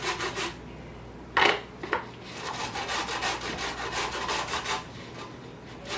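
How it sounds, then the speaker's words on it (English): An orange is zested on an ordinary grater in place of a microplane, giving close, repeated rasping strokes in uneven bursts with a few sharper scrapes, loud and alone without talk. "go ahead and zest one orange"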